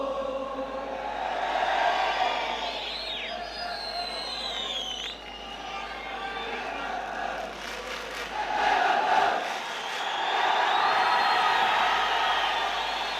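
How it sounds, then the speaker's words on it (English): Group vocals in a recording, only half in tune and sounding like an excited football crowd: a loud, swelling mass of chanting voices with bright whistling tones early on, dipping briefly before rising again. "this sounds exactly like an excited football crowd"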